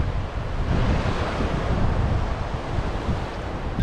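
Surf and wind at Ghoghla Beach in Diu, a steady broadband wash of breaking waves with gusty wind buffeting the microphone, loud and continuous with no talking.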